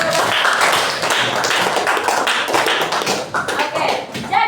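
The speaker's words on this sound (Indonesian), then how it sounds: "Oke, kita kasih aplaus atas jawaban." A classroom of students claps together in sustained, dense applause to reward an answer, loud and close, continuing steadily for several seconds with no talking.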